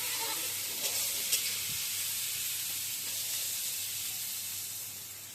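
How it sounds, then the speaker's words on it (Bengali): Brinjal and potatoes fry in a pan with salt and turmeric, giving a steady, soft sizzling hiss that fades slightly toward the end, with a couple of faint stirring clicks. "বেগুন আলুটা ভাজা হয়ে গেছে, এবার নামিয়ে নিচ্ছি।"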